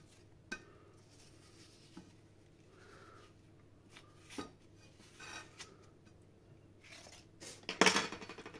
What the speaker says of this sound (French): On va bien creuser ici aussi.